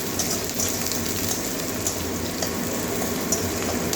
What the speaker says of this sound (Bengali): রসুনটা কাঁচা গন্ধ যাওয়া পর্যন্ত ভেজে নেব